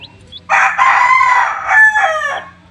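A Paul Spark Gray gamecock rooster lets out one loud, close crow, a drawn-out cock-a-doodle-doo rising and breaking before tailing off.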